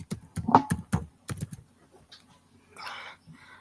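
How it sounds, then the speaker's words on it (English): Someone types a name on a computer keyboard in a burst of sharp, irregular keystroke clicks close by, then a pause before a few softer taps. "Okay, I type my name."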